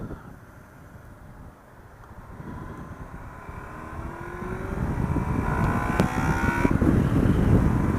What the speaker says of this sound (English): you can actually feel when all the valves open up and the vtec kicks in